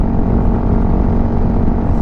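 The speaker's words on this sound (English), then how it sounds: "I can hear the exhaust, but it's not as overpowering." Steady low rumble of a Honda CRF300L Rally motorcycle exhaust at constant speed around 60, droning evenly without revving, with wind noise mixed in.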